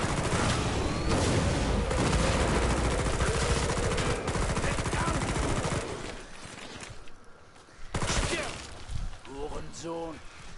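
Rapid gunfire from a powerful weapon in the video game Killing Floor 2 rattles loudly in dense bursts for several seconds, then drops away, followed by scattered shots and game noise with a voice talking.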